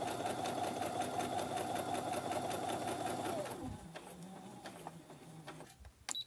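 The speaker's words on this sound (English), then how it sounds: "I'm going to do some reverse stitching." Sewing machine stitching a fabric tote bag, a loud, fast, steady whirring run that stops after about three and a half seconds, followed by quieter handling noises and a few clicks.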